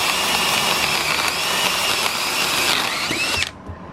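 Power drill boring a hole into a car tire, a steady, loud whirring buzz running continuously for several seconds before cutting off abruptly near the end.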